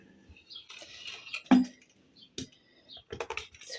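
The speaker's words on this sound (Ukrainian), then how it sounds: "Беру ножика або різачка і ось так ріжу." A knife cutting yeast dough for croissants gives a few soft, short taps and scrapes against a board, close and quiet, separated by brief pauses.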